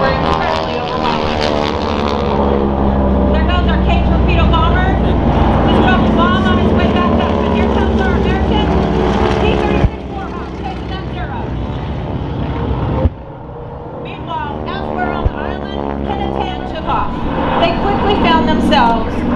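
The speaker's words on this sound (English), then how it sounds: "There goes our Kate torpedo bomber." A Kate torpedo bomber flies over during a Tora! Tora! Tora! Pearl Harbor attack reenactment at the 2023 Wings Over Wayne air show, its loud, steady propeller drone heard under continuous commentary.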